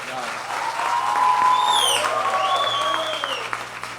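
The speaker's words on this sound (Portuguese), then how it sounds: "Palmas para o Dr. Fernando." Applause from a studio audience on a talk show, a steady wash of clapping lasting a few seconds, with tonal whistles or synth sweeps rising over it.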